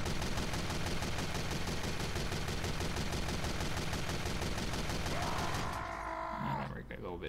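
A long run of rapid, regular gunshots crackles densely and loudly outdoors at target practice, ending in a few scattered pops and quieter noise.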